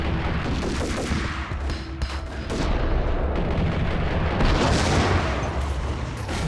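A grenade blast goes off in the video game Max Payne amid dense, loud gunfire, with booming bursts swelling and rolling on for several seconds.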